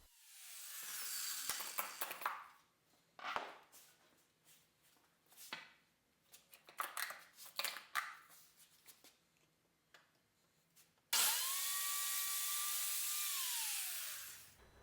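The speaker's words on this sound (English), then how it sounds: "it trims off the end of solid wood edge banding just perfectly" A power trimming tool with an attachment cuts off the end of solid wood edge banding on a built-in cabinet. Scattered knocks and handling noises come first, then a loud, steady motor whine runs alone to the end.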